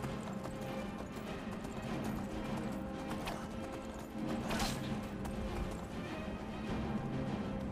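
Horse hooves galloping in the video game Skyrim, a rapid continuous clip-clop patter over steady game ambience, with a brief neigh-like sound partway through and no speech.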